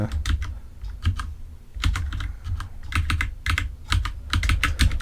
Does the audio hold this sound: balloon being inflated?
no